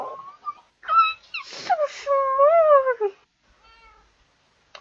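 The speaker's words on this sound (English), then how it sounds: "They have a kitten!" A kitten meowing: a series of several clear, high, drawn-out meows with wavering pitch, close and fairly loud, followed by fainter shorter mews and quiet pauses.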